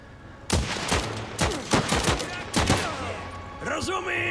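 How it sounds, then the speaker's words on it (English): Gunfire in a sniper battle in the game Last Train Home, with several loud sharp shots and short bursts cracking out in an irregular rhythm, followed by ringing ricochet-like tones near the end. "Sniper battle."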